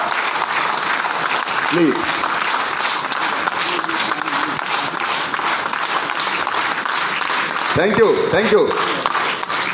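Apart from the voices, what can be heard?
audience applause at seminar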